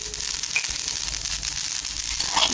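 Fenugreek, cumin and mustard seeds sizzle and crackle in hot oil for a tomato pickle, a steady close frying hiss with small popping bursts throughout.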